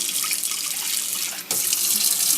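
Kitchen tap pouring warm water for making pyrizhky yeast dough: a steady close hiss and splash of running water that briefly dips near the middle, then resumes at full strength.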